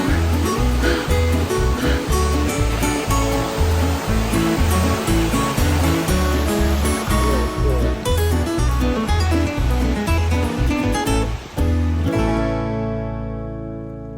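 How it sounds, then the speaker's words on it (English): A waterfall tumbles over rocks along a mountain hiking trail, a loud, continuous close-up roar that holds steady, then cuts off abruptly near the end. "Literally hiking up the waterfall on rocks right now."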